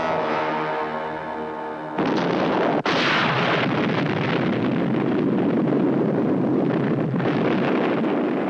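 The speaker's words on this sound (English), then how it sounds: "They destroyed the Delton gunship. Direct hit." A sci-fi missile strikes and destroys a gunship: a low tonal hum gives way to a sudden loud explosive burst and a sustained roaring, rumbling blast that continues for several seconds.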